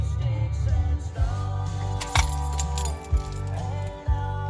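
Keys for a 2014 Chevrolet Impala with a rear object module failure jangle and clink close by as they are pulled from the ignition, with a few sharp knocks against a steady background hum.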